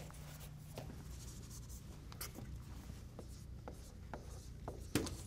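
Chalk or marker strokes on a board as numbers are written during a chemistry lecture, faint scratchy taps and rubs in an irregular rhythm against a quiet room.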